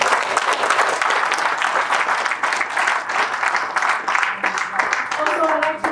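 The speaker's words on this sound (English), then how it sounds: "Please give them a round of applause." A round of applause from a seated audience at a Deepavali celebration event, dense steady clapping filling the room for several seconds, loud and sustained throughout.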